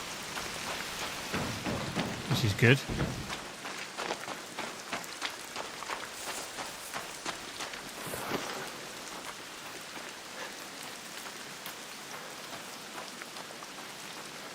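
Steady rain pattering on metal in the video game Arc Raiders, a dense continuous hiss of drops with a brief sharper burst early on and a short spoken remark.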